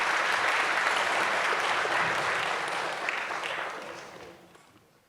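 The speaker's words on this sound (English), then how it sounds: "Please join me in giving them a big round of applause" Full round of applause from a symposium audience for the panelists at the close of a CSIS/Nikkei policy conference, dense and steady at first, then gradually fading out toward the end.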